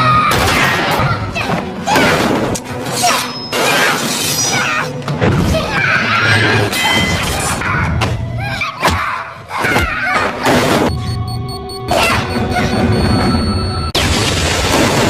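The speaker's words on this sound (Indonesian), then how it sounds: "Setelah terkena ledakan" Heavy crashes, thuds and booms in a film fight scene inside an airplane cabin, with an explosion among dense, loud impacts and scattered shouts, sustained throughout.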